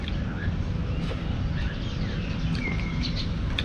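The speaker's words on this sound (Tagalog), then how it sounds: "maririnig mo yung mga uni ng ibon" Birds sing and chirp outdoors, with several faint, scattered calls over a steady rustling, broadband background.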